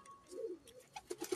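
A pigeon coos softly several times, low throaty calls rising and falling, quiet and close with a faint background.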